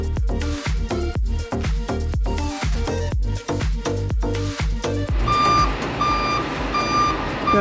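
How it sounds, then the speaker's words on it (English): A truck delivering a load of rocks, backing up with loud, steady reversing beeps repeating in a regular rhythm over a heavy engine rumble, close by with no talking. "and Ballard just showed up here with a load of rocks"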